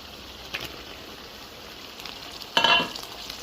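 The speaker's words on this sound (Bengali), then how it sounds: "এখন আমি দিয়ে দিব আগে থেকে ধুয়ে রাখা চাপা শুটকি" Washed dried chapa shutki fish dropped into a hot pan with chopped garlic sets off a sudden burst of close sizzling and frying, after a brief faint clatter earlier; no voices.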